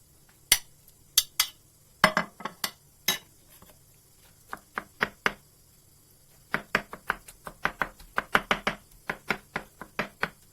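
Knife chopping eggplant on a cutting board, sharp irregular taps in bursts with a pause, then a faster run of chops near the end.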